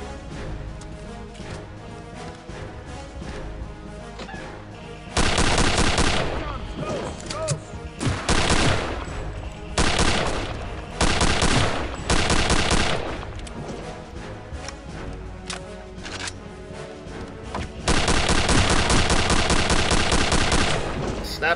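Sustained gunfire in the game Return to Castle Wolfenstein, with rapid automatic bursts and heavy volleys that start and stop in several long loud stretches over a busy background of game sound.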